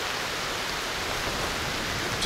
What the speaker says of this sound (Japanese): すごい雨ですね。